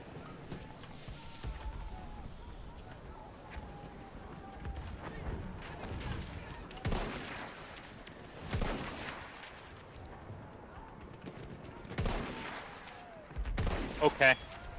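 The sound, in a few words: gunfire in the video game Battlefield 1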